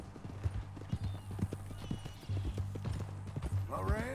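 Horse hooves clip-clopping at a steady walking rhythm in Red Dead Redemption 2, close and even, under talk between characters, with a brief whinny near the end.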